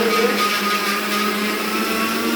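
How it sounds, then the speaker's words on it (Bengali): A kitchen blender grinds raw rice into fine powder, giving a steady, loud motor whine with a gritty rattle of grains throughout, close and continuous with no talk. "আমি গুঁড়া গুঁড়া করে দিতেছি"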